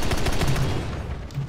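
Twin 30 mm aircraft cannons in War Thunder fire at a Yak-9 in a quick, loud burst of rapid thumping shots lasting just over a second, with no talk over it.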